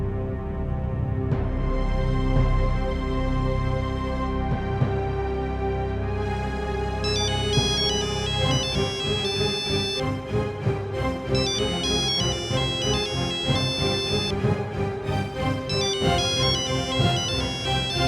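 A mobile phone ringtone plays continuously for a long stretch, a loud melodic tune with bright repeating high notes, alone with no talk.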